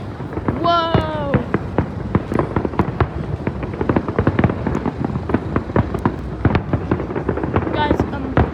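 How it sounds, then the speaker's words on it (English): Fireworks at an outdoor show burst in a rapid, irregular series of sharp cracks and pops, some distant and some nearer. Excited voices exclaim briefly at the start and near the end. "Oh, there's more fireworks. Look at that."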